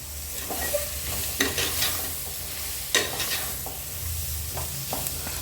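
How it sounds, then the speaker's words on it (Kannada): A spiced mixture is stir-fried in a pan, its steady sizzle punctuated by frequent close spatula scrapes and clacks in irregular bursts, with a low hum underneath. "ಇದ್ರ ಜೊತೆಗೆ ಇದು ಒಂದೆರಡು ನಿಮಿಷ ಫ್ರೈ ಆಗಲಿ"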